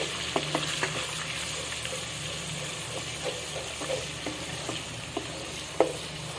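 Ginger-garlic paste fries in a pan for chicken korma, a steady soft sizzle with scattered stirring clicks and scrapes of a spoon against the pan, close and unaccompanied by talk.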